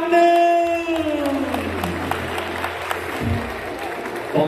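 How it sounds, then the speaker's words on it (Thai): An audience claps and cheers at a ladyboy beauty pageant, with continuous crowd applause under a loudspeaker voice and a sustained electronic tone at the start. "ขอเสียงปรบมือดังอีกครั้งหนึ่ง"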